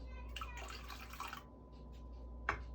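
Water poured into a stand mixer bowl while making chocolate marshmallows, a quiet splashing pour in the first second and a half, then a single drip-like plop near the end.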